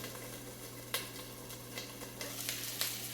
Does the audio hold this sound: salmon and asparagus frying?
yes